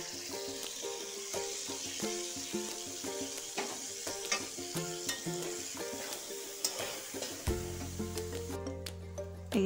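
Gobindobhog rice being stirred and fried in a pan for a sweet rice dish with potol, a continuous sizzle with scraping stir strokes and light clatter, close and steady, with a brief stronger sizzle near the end.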